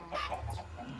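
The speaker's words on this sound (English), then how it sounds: "The chicken spawners we generally avoid on the server" A chicken in the Minecraft video game gives a short burst of soft clucks, brief and fairly quiet, with no talk.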